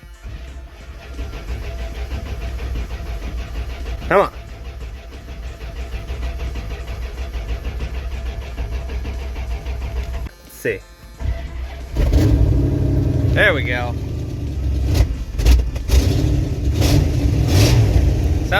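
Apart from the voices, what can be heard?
Dodge Ramcharger engine cranking, starting and revving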